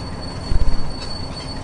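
A train in Train Simulator 2013 on the Great Western Main Line rumbles past with a short burst of rhythmic low thumps and clacks midway, then settles into a steady rolling hum.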